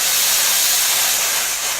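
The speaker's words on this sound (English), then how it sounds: "and you can see all that steam, and that should be able to glide through the jeans" A Bosch Sensixx DS37 steam iron with 3,100 watts and 5.5 bar pressure releases a loud, close, steady burst of hissing steam that fades slightly at the end.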